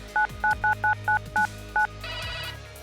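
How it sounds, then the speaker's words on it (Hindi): A telephone keypad dialing out: seven short DTMF beeps in a quick, even series, clear and close, followed by a brief burst of line noise. "न्यूज एक्सप्रेस के 3 अंडरकवर रिपोर्टर्स ने MMR के डायरेक्टर संजय पांडे को फोन किया"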